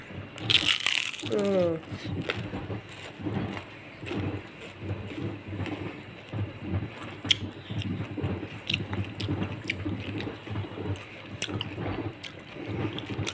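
Someone tastes a freshly cooked, still hot home dish, with close, wet chewing and biting sounds repeating through the clip and a few sharp clinks near the start.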